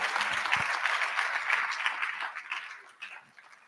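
An audience at a Ghana College of Physicians and Surgeons fellowship induction claps in a bright, dense burst that holds steady, then thins and softens toward the end.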